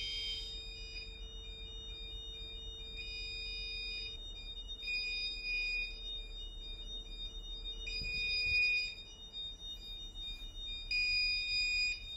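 Repeated electronic alarm beeps from a ship's navigation equipment and gyro panel, high and tonal, pulsing in a steady pattern over a low background hum, with no voices.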